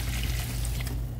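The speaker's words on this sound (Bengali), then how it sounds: "তারপর দিয়ে দিচ্ছি পরিমাণ মতো ঝোল।" Broth pours into a cooking pot as a short, continuous watery splash and trickle, close and fairly loud, with no voices.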